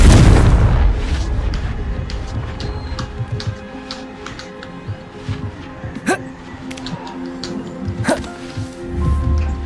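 A Confringo spell explosion in the Hogwarts Legacy video game opens with a heavy, near boom that fades into rumbling, then scattered sharp impacts, chimes and clicks of game effects follow, with occasional voice sounds.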